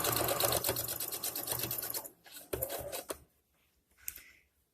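A sewing machine stitches the hem of a dress in a fast, steady run for about two seconds, then sews in shorter bursts that stop and start before falling quiet.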